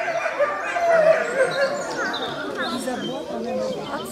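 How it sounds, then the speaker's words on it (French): Wolves howl and yip in a chorus, wavering cries rising and falling at moderate distance, with a person speaking French nearby over the calls. "Ils ne savent pas aboyer les loups. Ils hurlent."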